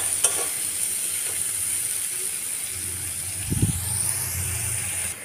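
Finely chopped onions fry in hot oil, giving a steady close sizzle with occasional stirring scrapes and a brief clatter partway through.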